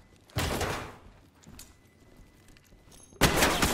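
Gunfire in the tactical shooter Ready or Not comes as two loud bursts of shots, one early and one at the end, with a few faint thuds in the quieter stretch between them.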